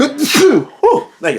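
A single sneeze bursts out amid casual speech, followed by a brief exhale; a voice talks before and after it, close and fairly loud.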